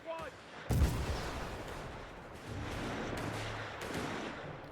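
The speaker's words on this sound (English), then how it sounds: "Just constantly making use of the Fort Artillery barrage here versus Elpern" Artillery barrage in the real-time strategy game Company of Heroes 3, one heavy close boom followed by distant rumbling explosions and scattered battle noise, under a low droning engine sound.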